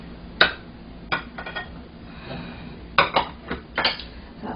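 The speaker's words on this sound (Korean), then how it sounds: "전분이 다시 사용하기 전에 한번 이렇게 저어 쓰시는 것이 제일 좋습니다." A utensil stirs starch slurry in a bowl for mapo tofu, producing a series of sharp clinks and taps against the bowl at irregular intervals, close and fairly crisp over quiet background.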